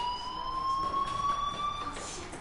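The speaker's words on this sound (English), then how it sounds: "Hey, do you hear that fire alarm?" Fire alarm ringing in a PlayStation 4 video game: a steady, slowly rising electronic tone that sounds continuously and fairly loud over faint background noise.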